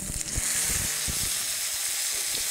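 Water poured into hot quince toffee in a pan gives a steady hiss and sizzle, loud and close, with a few soft bursts of bubbling early on.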